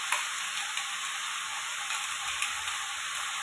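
Finely ground paste is stirred into vegetables frying in a pan, producing an even hissing sizzle with light utensil ticks, moderately quiet and without voices.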